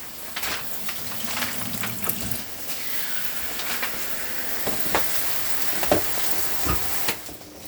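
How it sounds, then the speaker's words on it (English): Water runs steadily from the taps aboard a 2010 Bailey Pegasus 462 caravan as its water system fills, a continuous hiss and splash with occasional clunks and knocks, close by and with no talking. "once the water system is full, you'll have water running out of every tap"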